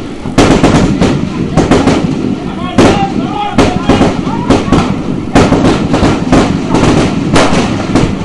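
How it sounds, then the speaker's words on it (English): Firecrackers crackle and bang in rapid repeated bursts at a schoolboy rugby match at Mount Lavinia, the sharp pops loud and near over a roaring, cheering crowd. "The firecrackers go off here at Mount Lavinia."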